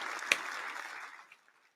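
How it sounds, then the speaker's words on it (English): A short burst of applause for Leah Steele fades out within about a second and a half, with no one speaking over it. "let's give Leah Steele a round of applause"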